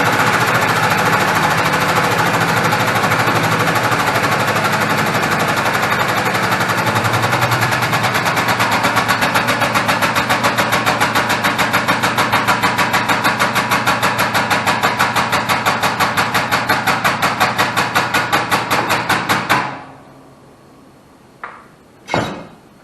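Air-operated bending tool working on structural steel, a loud continuous rapid hammering racket for about twenty seconds, then stopping abruptly, followed by a few faint clanks.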